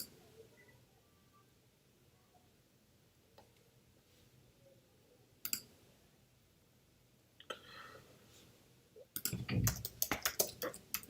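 Mouse clicks and keyboard taps on a computer while creating a project in Unity: faint isolated clicks early on, then a dense burst of rapid, louder key clicks near the end, nearby and with no speech.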